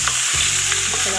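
Chicken goes into a hot pan for chicken karahi, a loud, close sizzle with a brief scrape and stir, then a steady, bright frying hiss.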